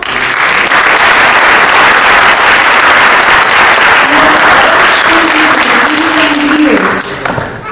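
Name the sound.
audience applause for volunteers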